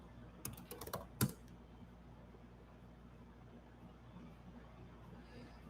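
Brief bursts of computer keyboard typing, a few quick key clicks near the start, faint and close, then quiet room noise.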